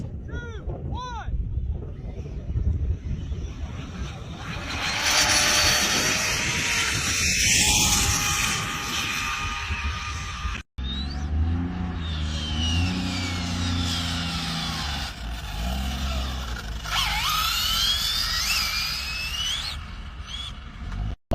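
Off-road RC cars racing on a dirt track, with high whining electric motors rising and falling as the cars pass and accelerate, plus a brief pause midway and a voice heard near the start.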